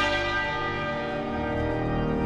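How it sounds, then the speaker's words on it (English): Westminster Abbey's church bells toll for the state funeral of Queen Elizabeth II in London, a sustained, richly ringing bell tone with long overlapping resonance, heard steadily with no speech over it. "The silence broken by the bells of Westminster Abbey, tolling every minute for every year of Her Majesty's life."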